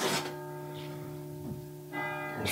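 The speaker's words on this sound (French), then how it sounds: "on entend les cloches qui sonnent." Church bells ringing with sustained, ringing tones that swell and fade, heard from a moderate distance with no talking.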